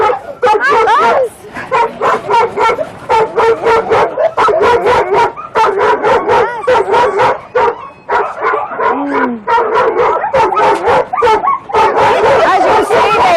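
Many dogs kept in tiny cages at a dog meat farm bark, yip and whimper together, a loud, dense, overlapping chorus of close, sharp barks that continues almost without pause.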